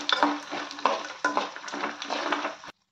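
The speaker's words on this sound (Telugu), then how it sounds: "బాగా వేగాలి పల్లీలు కొంచెం లైట్గా" Peanuts fry lightly in hot oil in a pan as a spoon scrapes and stirs them in repeated strokes, loud and close, with a steady sizzle underneath.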